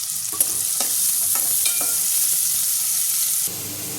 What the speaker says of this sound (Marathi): तेल थोडं गरम करून द्यायचं त्याच्यामध्ये आपण लसूण टाकूयात आणि एक मोठा कांदा मी चिरून घेतलेला आहे ते कांदा टाकून आपल्याला परतून घ्यायचे